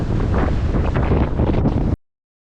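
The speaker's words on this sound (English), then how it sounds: "this wind is absolutely like deafening" Strong night wind buffets the microphone with a loud, continuous roaring rumble at a crabbing spot by the water, cutting off abruptly after about two seconds.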